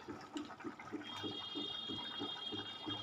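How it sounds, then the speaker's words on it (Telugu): Horse gram soup (ulava charu) pouring into a pot of chicken curry, a steady liquid splashing and gurgling stream with a soft rhythmic pulse, close and moderately loud, no talking. "ఇంకోండి ఇప్పుడు ఉలవ చారు వేసుకుందాం."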